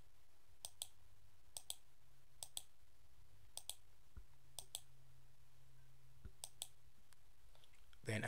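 Computer mouse clicks while shapes are filled in an animation program: small, sharp paired clicks at a steady pace, some of them quick double clicks, quiet against a low background hum.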